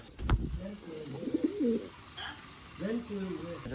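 Pigeons coo in low, rolling phrases at close range, a burst near the start and another toward the end, with a sharp knock early on and faint background noise between calls.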